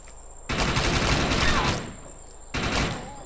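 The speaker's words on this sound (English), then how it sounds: "I'm getting shot quite badly again." Sustained burst of gunfire in the shooter game Defiance, dense rapid shots roaring for over a second, then a pause and a second shorter volley, loud and close.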